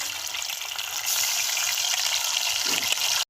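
Chicken pieces dropped into hot oil, a loud, dense sizzle that swells sharply after about a second and keeps crackling steadily until it cuts off.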